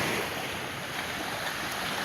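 Reddish lake water laps gently against rocks along a Minnesota beach, a soft continuous wash and trickle heard fairly close, with faint wind and no voices.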